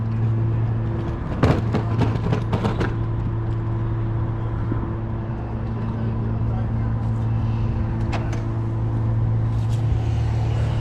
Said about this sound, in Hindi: तो जी ये आ गई है गाड़ी टैक्सी